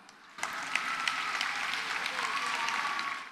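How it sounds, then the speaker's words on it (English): An audience claps for kids and parents at a EuroKids school annual day in Hyderabad, a steady patter of applause starting abruptly and carrying on moderately loud. "let us wave a big clap for all our kids and the parents present here"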